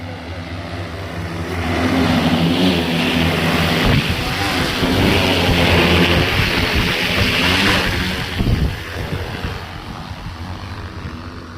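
Agricultural spraying drone flying over a farm field applying pesticide, a loud steady propeller whine and drone that swells and holds, then eases off slightly toward the end.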